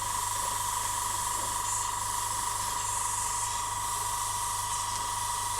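Steady, continuous hiss of a spray can laying light coats of white paint onto small 1:72 scale model parts, close and unbroken throughout with no talking.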